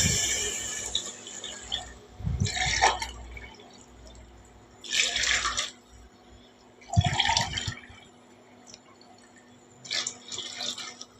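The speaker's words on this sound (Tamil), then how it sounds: "இதில் வந்து இந்த காபிக்கு நான் ஒரு 3 காப்பி தண்ணி ஊற்றுறேன்." Water poured from a cup into a cooking pot of lentils and rice for sambar rice, in several separate splashing pours with quiet pauses between them and a faint background hum.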